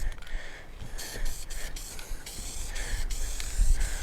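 Acrylic lacquer paint sprayed onto a car in short hissing bursts, close and fairly loud, with brief pauses between passes.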